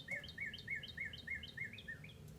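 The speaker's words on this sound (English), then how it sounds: "Do you hear the bird right outside the window here?" A bird sings just outside a window, a quick run of about eight bright, evenly spaced chirps, clear but fairly faint over a low indoor background.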